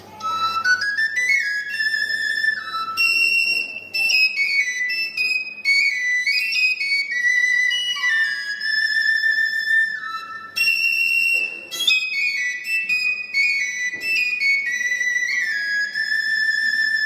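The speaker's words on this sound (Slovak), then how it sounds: "taká najtypickejšia na Slovensku je šesťdierková píšťalka" A Slovak six-hole shepherd's whistle plays a lively folk melody of bright, sustained notes with quick runs and short breaths between phrases, heard alone and close.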